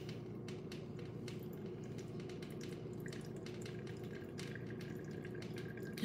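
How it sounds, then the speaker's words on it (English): A faint, steady trickle of water pours slowly onto coffee grounds, with soft drips and splashes over a low hum. "Pour in little slow circles."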